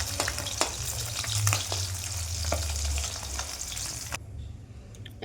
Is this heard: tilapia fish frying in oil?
yes